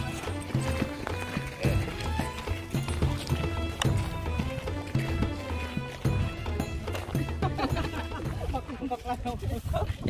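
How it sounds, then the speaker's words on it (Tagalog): A horse's hooves clip-clop rhythmically at Petra, Jordan, mixed into loud, dense music that plays throughout. "Nahanap ko po si Petra ang kabayo"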